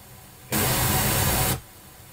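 A loud full-scale burst of white noise test signal hisses for about a second, then cuts off abruptly when muted, leaving only faint background hiss.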